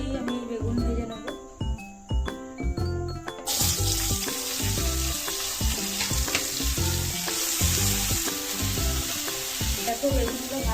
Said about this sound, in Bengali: আলু ভাজার তেলেই আমি বেগুন ভেজে নেবো।